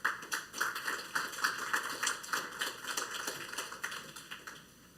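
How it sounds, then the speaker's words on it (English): Applause from a seated audience at a public forum marking a botanical garden's 150th anniversary, a dense steady patter of many hands that fades gradually toward the end, with no talking over it. "With that applause and hopefully a separate round"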